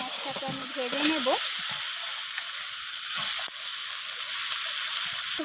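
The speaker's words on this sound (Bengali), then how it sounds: "এই পেঁয়াজগুলোকে আমি দিয়ে এখানে একটু কালার চেঞ্জ হওয়া পর্যন্ত পেঁয়াজটাকে আমি ভেজে নেব।" Chopped onions sizzle and fry in a hot pan for a cooking dish of chicken curry, a steady close frying hiss with a brief stir near the start.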